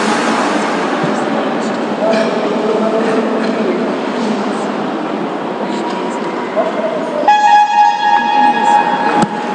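Steady crowd noise at a sports match for blind athletes gives way to a loud, sustained horn blast signalling the restart of play, holding over the din near the end.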